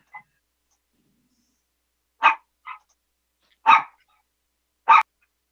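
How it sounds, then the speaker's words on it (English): A dog barks four times in sharp, isolated bursts with long silent gaps between them, loud and close against an otherwise quiet background. "we had a dog barking"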